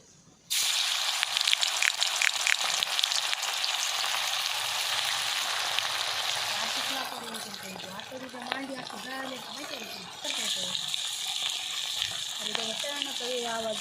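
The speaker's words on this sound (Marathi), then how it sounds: "आता आपण तळण्यासाठी टाकून घेणार आहोत हे पीस." Pieces of fish drop into hot oil on a wood-fired stove and set off a loud, steady, close sizzle that softens a little partway through while a voice talks over it.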